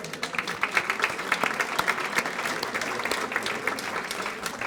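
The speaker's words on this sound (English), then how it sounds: "How about a round of applause for all of our sponsors?" An audience at a Salisbury Area Chamber of Commerce legislative forum applauds its sponsors, a dense, even clapping from a moderately sized indoor crowd heard from a little distance.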